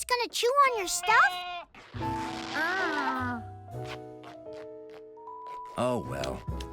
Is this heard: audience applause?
no